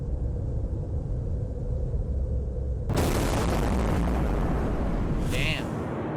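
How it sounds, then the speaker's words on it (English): A simulated blast from the Russian "father of all bombs," a powerful non-nuclear weapon, hits suddenly as a loud broadband boom after a low rumble, then a sustained roaring shockwave that fills the rest. "A Russian father of all bombs. Powerful non-nuclear weapon."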